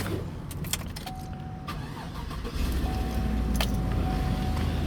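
A Chevrolet Suburban 5.3 V8 cranks and catches after a water pump replacement, then settles into a steady close idle following a brief starter whir and a few clicks.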